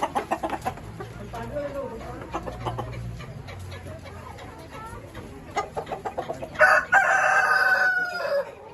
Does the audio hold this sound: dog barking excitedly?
no